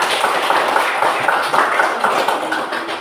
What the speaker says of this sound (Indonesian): Sekali lagi tepuk tangan untuk semua.